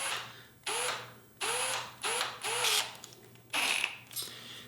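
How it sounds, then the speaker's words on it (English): A power drill runs in several short bursts drilling pilot holes for a Honda Rebel 250 rear fender, separated by brief pauses, its whine rising and falling as it bites in, close and fairly loud. "Drill my pilot holes. Hopefully I can get my drill in there."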